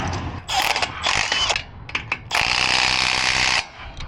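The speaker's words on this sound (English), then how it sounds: "Tighten up everything here." Bolts being tightened on a winch mount at the front of a boat trailer, with bursts of ratcheting and mechanical clicking close by, two long runs separated by short taps and pauses.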